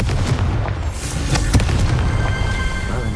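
A Confringo fire spell goes off in Hogwarts Legacy with a loud, sustained booming burst and crackling blasts, close and alone with no talk.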